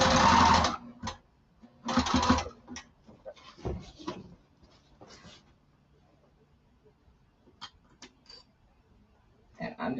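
A sewing machine stitching the lining of a duffle bag, two loud whirring bursts up close, then clicks and handling noises as the fabric is adjusted, with a brief final run of stitching.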